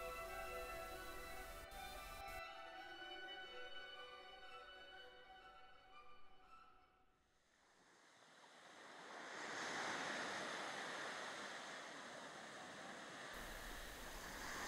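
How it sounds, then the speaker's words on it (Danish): Ocean waves break and wash onto the shore in a soft, broad rush that swells and fades. A sustained musical tone comes before the surf. "på lyden af havet"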